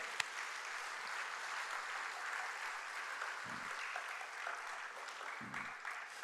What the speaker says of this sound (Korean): 우리 하나님 앞에 영광의 박수 드리겠습니다